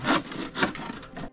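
Handsaw cutting through hard wood while a treehouse is built in the forest, rhythmic rasping strokes, about three pushes close by and loud, with no talking.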